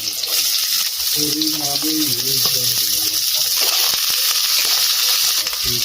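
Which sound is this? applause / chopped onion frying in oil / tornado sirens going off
chopped onion frying in oil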